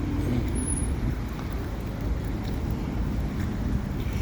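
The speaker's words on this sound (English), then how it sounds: "So it does get backed up with traffic here." Steady roar of town-centre traffic on a busy Hertfordshire main street, a continuous rumbling wash of passing vehicles with no distinct events, heard alone without talk.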